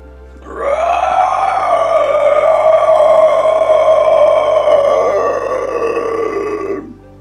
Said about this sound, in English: Man, that was a big burp.